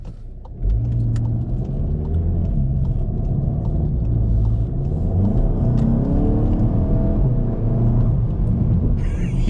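A Volkswagen MK7 GTI accelerates hard from the driver's seat. Its engine swells into a loud, steady, rising rumble and whir that holds for several seconds, close and continuous with faint road noise.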